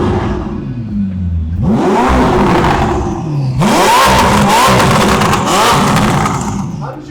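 A tuned Ferrari SF90 engine revs hard in repeated bursts, roaring up and dropping back between blips, loud and close.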